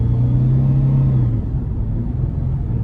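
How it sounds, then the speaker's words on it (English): A 2005 Nissan Xterra S V6 on a road test drive gives a steady, loud low rumble and a droning engine hum heard from inside the cabin, dipping slightly partway through. "Let's go ahead and take it on the road for a quick test drive."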